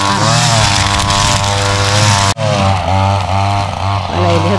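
A tractor mowing brush in a field on a potato farm gives a loud, steady droning engine close by, with a brief dip midway before the drone resumes, changing slightly in pitch.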